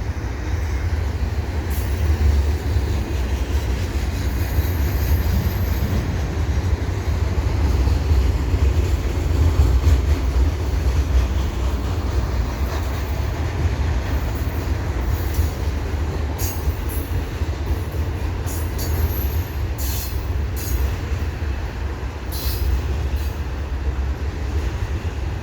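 A CN intermodal freight train rolls past at the Dorval ramps at dusk, a loud continuous rumble of wagons with a steady low roar and intermittent high wheel squeals over the whole stretch.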